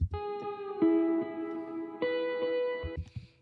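Sustained guitar notes ring out through a crystallizer effect, with a shimmering, glassy processed sheen, a few chords changing slowly and decaying into a bright sparkle.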